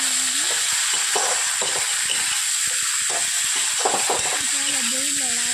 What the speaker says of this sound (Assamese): এনেকৈ ভাজি হোৱাৰ পিছত মাংসখিনি ঢালি দিব লাগিব।